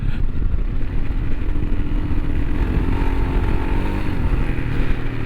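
A Royal Enfield Himalayan 452 on Mitas E07 tires rides hard off-road, its single-cylinder engine loud and close, revving and droning continuously with rattling clatter as the tires slide over dirt.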